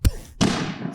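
A soundboard button fires a firework sound effect: a sharp low thump, a brief pause, then a bright crackling burst that trails off over about a second, close and loud with no talk.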